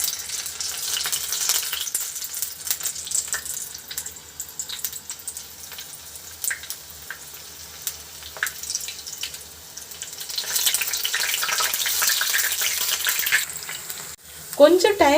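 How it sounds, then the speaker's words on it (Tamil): Banana flower florets dipped in batter for bhaji fry in hot oil with a steady, close crackling sizzle that swells near the end, with a brief clink as more pieces go in. "இப்போ வாழைப்பூவை ஒன்று ஒன்றா எடுத்து இந்த மாதிரி டிப் பண்ணி எண்ணெயில் போட்டு பொரிச்சு எடுத்துக்கலாங்க."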